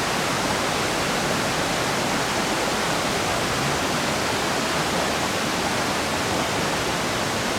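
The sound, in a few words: river flowing, Great Smoky Mountains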